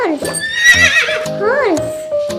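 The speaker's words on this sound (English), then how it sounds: "Horse. H O R S E. Horse." A horse neighs with a wavering, descending whinny that rises over spoken words, set among farm animal names and sounds.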